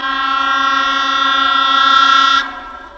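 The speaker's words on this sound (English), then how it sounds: "it's the train. I'm going to be hit by the train." A train horn blares loud and steady for about two and a half seconds, then cuts off abruptly, leaving a faint fading tail.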